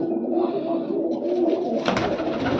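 Pigeons of good breed coo steadily in low, rolling murmurs at a village pigeon loft, several birds overlapping close by, with a brief rustle near the end.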